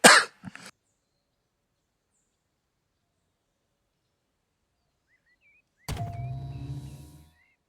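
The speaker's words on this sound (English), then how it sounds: "had a little cough there." A single short, sharp cough close to a microphone, followed by a long silence. A faint, muffled noise comes later.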